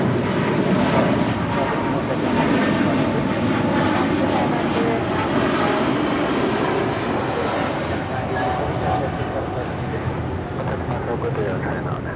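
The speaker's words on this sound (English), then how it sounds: "That is Air China 988 departing to Beijing on a 777-300ER" Air China Boeing 777-300ER departing Los Angeles International Airport for Beijing, a loud continuous engine roar filling the scene, with people talking over it.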